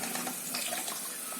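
Water streams steadily from the outlet of a Swan 100 GPD RO booster pump set to 75 PSI, a continuous, even hiss of flow with no speech.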